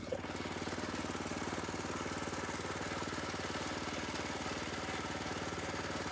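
A steady, loud tractor engine drones throughout with a rhythmic low chugging, running continuously at close range without pause.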